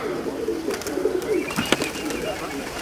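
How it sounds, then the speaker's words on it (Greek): Pigeons at a pigeon festival flutter and coo amid a busy outdoor crowd, with soft wingbeats and brief calls rising over steady background chatter and murmuring voices. "Κάνα δυο πουλιά είναι ακόμα, να το ένα ήρθε."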